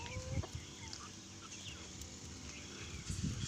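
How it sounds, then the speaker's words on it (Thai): A white laying-breed rooster clucks faintly in a quiet farmyard, giving soft intermittent calls over low background noise, with a slightly louder cluck near the end. "ไก่ตัวนี้สีขาวๆนี่เป็นไก่ไข่ตัวผู้"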